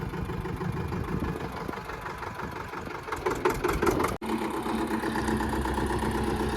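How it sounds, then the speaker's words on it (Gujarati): A tractor engine runs steadily nearby at a low, even idle-like throb with a brief dropout about two-thirds through. No one speaks. "આ છે અમારા જયભાઈ, જે હાકે છે ટ્રેક્ટર, આજે શીખે છે."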